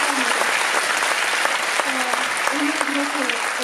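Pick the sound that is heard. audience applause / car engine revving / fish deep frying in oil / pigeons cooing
audience applause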